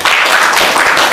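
Meeting attendees at an annual general assembly applaud the secretary general, a dense, steady wash of clapping filling the whole moment at close range.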